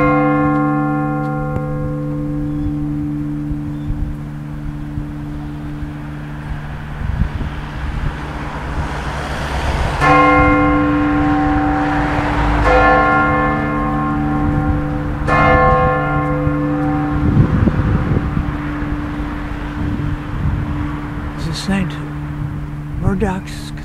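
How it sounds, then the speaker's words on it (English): Church bells ring out in Ballina, County Mayo, with repeated strikes over steady outdoor ambience and passing road traffic, the tolling rising clearly midway and carrying on to the end. "I can hear the ringing of the bells now."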